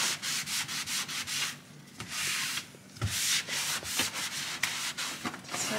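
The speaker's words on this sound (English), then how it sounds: "This countertop quartz, it cleans pretty well with this magic eraser." Magic eraser scrubbed hard across a quartz countertop, giving rapid rhythmic rasping strokes, close and loud, in quick back-and-forth bursts with brief pauses.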